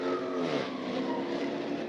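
Dodge Scat Pack car engine revving hard in a steady, loud, buzzing drone that holds at high pitch throughout, with no speech.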